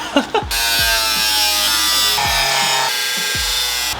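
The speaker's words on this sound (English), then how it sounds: "now that we've cut our holes in our chassis" A power tool grinds and cuts through the metal chassis of a drift Mazda Miata MX-5, loud and close. A steady harsh whine runs for several seconds, with a few brief bumps at the start.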